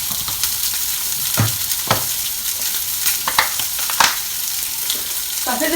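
Bacon and sausage frying in a pan, a steady loud sizzle with occasional scraping stirs and clatters of a utensil.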